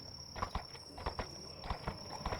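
Horse hooves clip-clop in a steady walking rhythm in the video game VRChat, a clear series of hoof strikes over a faint high tone and no talk.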